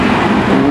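A Volkswagen Corrado at a Japanese import car show, its engine a steady close, loud hum with no break.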